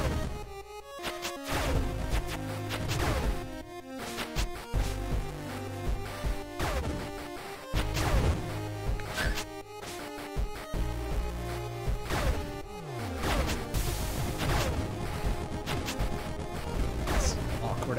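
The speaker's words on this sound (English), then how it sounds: "That's a lot of bullets flying around." In the Monolith video game, rapid gunfire, impacts and crashing bursts crackle continuously at moderate loudness, with players talking over the shooting throughout.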